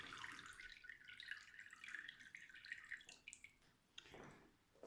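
Water trickling and dripping while an orchid, a Brassia longissima mounted on cork, is watered, a soft continuous patter close by and fairly quiet, tailing off near the end.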